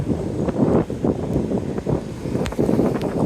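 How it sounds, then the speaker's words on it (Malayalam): Strong wind buffets the microphone in a continuous, loud rushing roar on a road journey, with no voices. "ഭയങ്കര കാറ്റ് ചെറിയ കാറ്റൊന്നല്ല"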